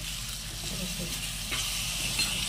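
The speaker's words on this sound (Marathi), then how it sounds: "आता आपण त्यात टाकत आहोत चिंचेचा कोळ आणि त्याला आता आपण मिक्स करून घेत आहोत" Shark keema with tamarind pulp is stirred in a pan on the stove, a steady sizzle and hiss with soft scraping of the spoon close by, under a constant background hum.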